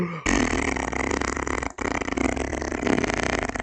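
A cartoonish fart sound effect from the Minecraft video game, loud and drawn out for over three seconds, with a brief break in the middle before it resumes.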